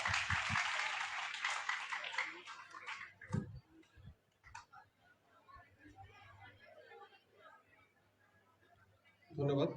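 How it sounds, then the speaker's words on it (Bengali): Audience applause at a school event in Meherpur honouring Bangladeshi freedom fighters, loud clapping for about three seconds that fades into murmurs and stray claps, with another burst of clapping swelling at the end. "আমরা একটু জোরে করতালি দিয়ে ধন্যবাদ জানাই"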